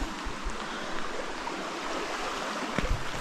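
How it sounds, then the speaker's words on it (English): A mountain stream flowing in the South Mountains, with a steady broadband wash of running water throughout, close and continuous, and a few brief low knocks near the end. "this stream is really pretty"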